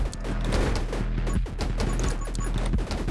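A twin-barrel shotgun blasts away in 10 Minutes Till Dawn, rapid dense shots stacking into a steady barrage over a thumping game soundtrack, loud and continuous throughout.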